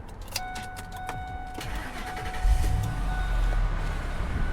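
A 2001 Ford Lightning SVT pickup cranks and fires up, its starter whirring before the engine catches into a deep, steady idle rumble, close and clear with no talking.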